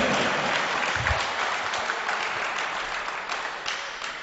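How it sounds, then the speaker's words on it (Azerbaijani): Guests at a sports club opening event in Azerbaijan applaud the president of Qartal Professional Sports Club, a steady crowd clapping that gradually fades toward the end. "Alqışlarınız."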